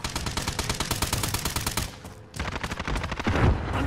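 In Warzone on Rebirth Island, rapid automatic gunfire rattles close and loud in long bursts, breaks off for a moment, then resumes.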